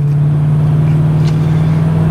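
A 1985 Cadillac Eldorado Biarritz convertible pulls away, its engine holding a steady low hum with a faint rise and some wind and road rumble, heard from inside the car with no talking.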